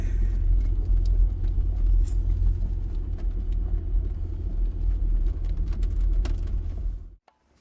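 A car climbing a steep mountain road toward a clear-cut, its engine and tire rumble droning steadily and close for about seven seconds before cutting off abruptly.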